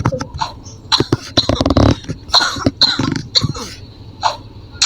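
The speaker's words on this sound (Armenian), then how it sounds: "Հազում է։" A person coughs in repeated harsh, close bursts, some with a throaty rasp, coming in an uneven rhythm with short gaps and no talking.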